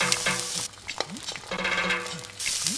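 An egg omelette with onion fries in a pan during outdoor village cooking, a hissing sizzle and stirring scrapes joined by wavering bleat-like tones that rise and fall in the background.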